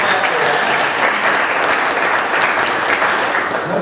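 Audience applause for a commissioner at a talk on energy progress, steady and loud, a dense wash of clapping from the whole crowd sustained throughout without any voices.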